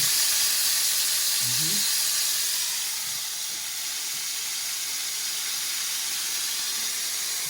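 Pieces of chicken pie hiss and sizzle in a hot frying pan, a loud close steamy crackle that eases slightly partway through and keeps going; a brief low voice may be heard near the start.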